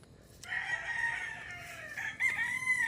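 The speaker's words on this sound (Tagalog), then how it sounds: "Ang luwang, puro manok lahat yan" Roosters crow one after another across a spacious chicken farm in Guerrero, Bauang, La Union, with overlapping calls at mid distance and faint clucking beneath.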